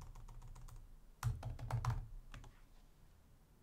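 Keys clack on a computer keyboard as a command is typed, light taps at first, then a quicker, louder burst of keystrokes in the middle before trailing off into a few soft presses.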